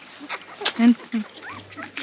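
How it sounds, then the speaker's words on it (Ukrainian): Newborn puppies that have just opened their eyes and are starting to walk make brief whimpers and small squeaks in a couple of short bursts. Nearby voices talk over them. "Песики вже пооткривали оченята і вони вже бігають."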